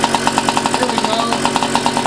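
A small engine on a free scooter idles after starting, a close, buzzing putter with quick regular pulses and a steady rhythm throughout.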